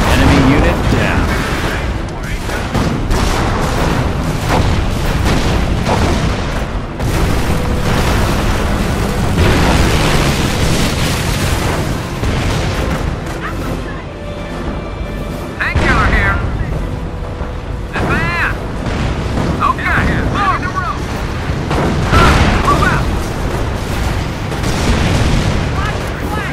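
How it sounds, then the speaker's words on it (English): A bombing run in the real-time strategy game Company of Heroes, during a four-versus-four skirmish of Americans against Panzer Elite: continuous loud booming explosions and artillery blasts layered with battle noise, unit voice lines heard over the din. "Bombing run is now inbound."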